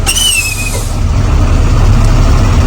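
A Class A truck's air brakes give a sharp hiss and squeal at the start during a brake test, then the engine rumbles low and steady.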